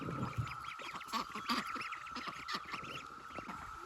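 Ducks quack in a loose, overlapping chorus on a homestead as they crowd toward the duck coop, the calls steady and fairly close with no talking.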